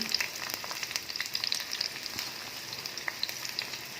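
Onion and green chili frying for a water lily stir-fry make a close, crackly sizzle with small irregular pops and faint stirring, and no one talks over it.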